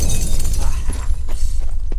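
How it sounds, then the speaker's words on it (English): A mirror shatters in The Witcher 3: Wild Hunt, Hearts of Stone, a sudden burst of breaking glass with scattered tinkling fragments over a dense rumbling game background, short and loud. "Gotta be some mirror here you won't shatter."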